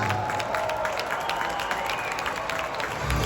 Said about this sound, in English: So I'll give him a big round of applause.